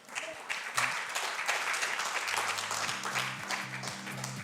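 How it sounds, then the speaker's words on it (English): A room of summit attendees gives a round of applause, steady moderate clapping throughout, with a low musical tone entering under it in the second half. "let's give a round of applause"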